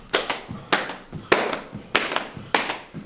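Hand claps during penguin jumps, mimicking a jump rope passing under the feet: five sharp, evenly spaced claps about every 0.6 seconds, each followed by a soft landing thud, close and clear with no talking.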